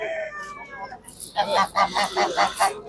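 A run of loud, close honking calls from geese at a poultry market, following a few higher bird cries and a short murmur of voices.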